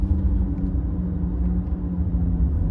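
A 2022 Porsche Taycan 4S electric car driving, giving a steady low rumbling hum and faint whir inside the cabin, constant and unbroken throughout with no voices.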